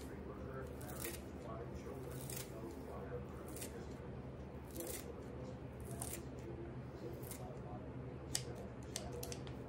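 Fresh dill being snipped with scissors, a rapid series of crisp close cuts repeated throughout, with a person talking over them.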